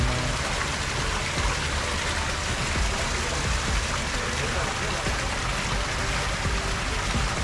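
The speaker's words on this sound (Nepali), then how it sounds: "कहाँबाट पानी आएको भुँडीबाट पानी आएको" Water gushing from spouts in Fort Canning Park, Singapore: a steady, loud, close rush of splashing water that holds an even level throughout, with no break or change.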